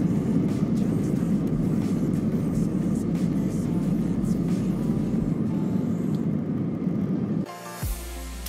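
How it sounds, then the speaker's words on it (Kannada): Inside the cabin of a passenger jet taking off from Bengaluru on a flight to Switzerland, a loud, steady engine roar and rumble fill the air, then cut off abruptly to a quieter cabin with a brief tone. "ಫ್ಲೈಟ್ ಟೇಕ್ ಆಫ್ ಆಯಿತು"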